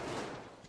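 Gunfire in the video game Metro Exodus, a loud, dense burst of shots filling the short moment with no talk over it.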